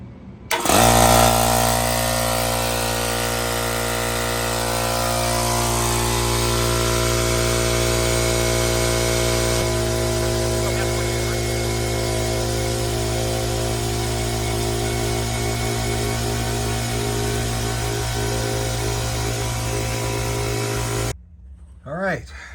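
A rebuilt Coleman Powermate air compressor, fitted with a new regulator, piston rings and check valve, runs loud and steady for about twenty seconds with a constant motor drone, then cuts off abruptly.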